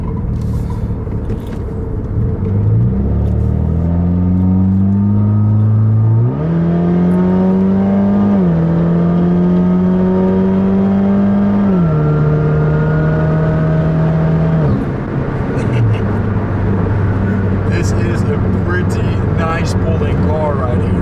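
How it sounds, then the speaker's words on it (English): A 2008 Saturn Sky Redline's 2-liter turbo engine revs up and holds steady through a turn, its pitch rising in steps as it accelerates, loud and close, with a constant road rumble underneath. "Now the engine in this car is a 2-liter turbo."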